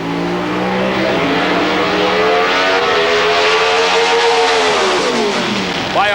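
Loud drag race engines roar and rev up as cars launch off the line at the 1994 NHRA Chief Auto Parts Nationals in Texas, the pitch climbing and sweeping, with a new engine rising sharply at the end.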